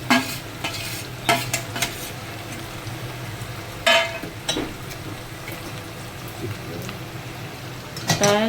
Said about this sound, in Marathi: चिकन वगैरे इथे टाकून घेतलेलं आहे चांगलं तेलात परतून